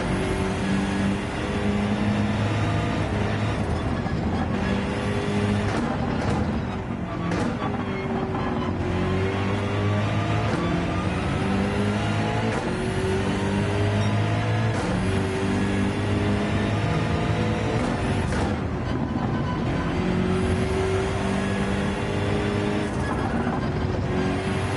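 A race car laps the Dragon's Trail circuit in Gran Turismo 7. The engine drones loud and steady throughout, rising and falling through gear changes and braking with no talk over it.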